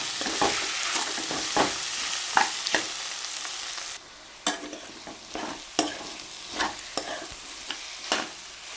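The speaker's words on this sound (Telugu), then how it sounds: "వన్ స్పూన్ అల్లం వెల్లుల్లి పేస్ట్ వేసుకోండి వేసి మంచిగా కలిపేసేయండి" Ginger-garlic paste being stirred into a frying curry, a steady sizzle broken by repeated scraping strokes of a spoon against the pan, up close with no voices.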